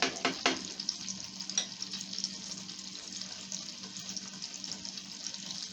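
Homemade pancake-mix pancakes cook in a pan with a steady, soft sizzle throughout, plus a few brief clinks or taps near the start; no talking.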